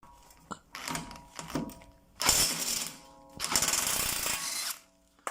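Three nuts are undone on the front suspension of a VW-group car during a front wheel bearing replacement: fairly quiet clicks, then two buzzing, whirring bursts of a tool spinning the fasteners loose.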